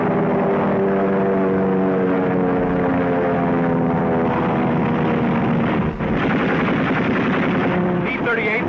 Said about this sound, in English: This is a dogfight. A Spitfire dives on a Messerschmitt.